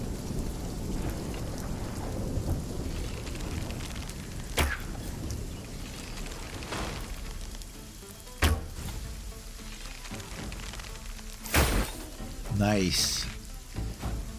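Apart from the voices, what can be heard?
thunderstorm with rain in a video game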